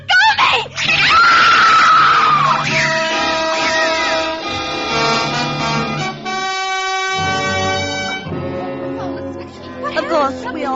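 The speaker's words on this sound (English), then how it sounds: "we all heard the screams coming from Diane's room" A woman screams loudly and at length in a radio drama, the shriek rising then wavering into strained cries before trailing off, set against dramatic background scoring.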